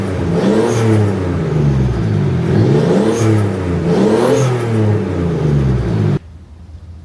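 A 1994 Toyota Supra Turbo fitted with an HKS blow-off valve revs several times in a row, each loud rising and falling engine swell close by, before cutting off abruptly.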